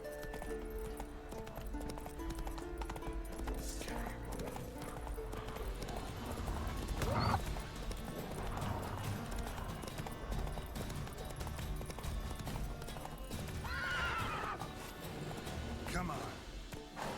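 A horse's hooves clip-clop at a steady trot in the video game The Witcher 3, with a couple of neighs partway through and background game music, moderately loud and close.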